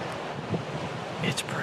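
Strong wind on an October night buffets the microphone with a low rumble and steady rushing noise, and a few faint sounds rise briefly near the end.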